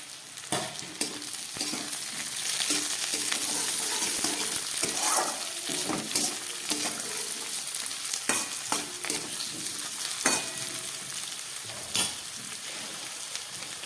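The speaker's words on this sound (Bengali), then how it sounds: "এবার দিয়ে দিচ্ছি কেটে রাখা টমেটোটা" Chopped tomato dropped into a hot pan, bursting into busy frying and sizzling with crackles and spits, plus intermittent stirring scrapes, close and moderately loud over about fourteen seconds.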